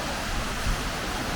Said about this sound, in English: the bottom of the waterfall.